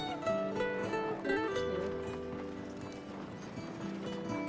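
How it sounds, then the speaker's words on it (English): Horse hooves clip-clop at a walk as the animal is led toward stables in a video game, a steady soft rhythm under a warm bed of orchestral music. "You walk with the man as he leads your horse to the stables"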